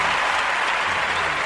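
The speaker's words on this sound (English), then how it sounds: "I want to give you a round of applause" Steady applause from an audience, a dense even wash of clapping that stays at the same level throughout, with no voices heard.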